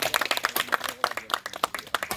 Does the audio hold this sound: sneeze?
no